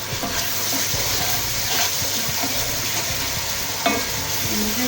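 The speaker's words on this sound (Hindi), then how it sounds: "मसालों को अच्छे से भूनेंगे ताकि इसमें अच्छी स्मेल आ जाए।" Spices fry in a pan, a steady close sizzle throughout, while a spoon stirs them with soft scraping and occasional sharper knocks against the pan.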